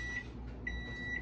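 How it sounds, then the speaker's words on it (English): A microwave oven beeps its done signal while a pie recipe with chicken, smoked herring, potato and cheese is being prepared, with short tonal beeps at a steady pace over a low room hum. "the microwave done there for the minute"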